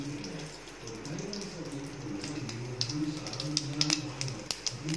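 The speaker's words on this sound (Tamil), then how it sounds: "நல்லா பொரியட்டும்." Mustard seeds and urad dal splutter in hot oil while tempering for chow chow chutney, a steady close crackle with sharp pops that grow busier toward the end, under a low background hum.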